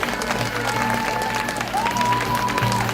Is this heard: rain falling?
no